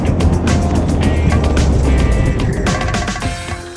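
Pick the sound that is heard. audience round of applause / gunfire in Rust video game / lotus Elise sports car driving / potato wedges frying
lotus Elise sports car driving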